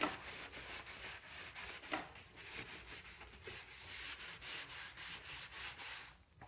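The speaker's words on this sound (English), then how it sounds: "So I'm going to just get my cloth, some brake clean." Cloth soaked in brake cleaner rubbed over a dirty BMW E90 engine near the valve cover, a soft, rhythmic scrubbing swish repeating steadily at close range.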